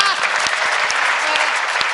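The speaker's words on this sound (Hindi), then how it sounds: "अब तो तालियां आएंगी" An audience at a Hindi poetry recital claps in a dense, sustained burst of applause, close and full, with a voice faintly audible underneath.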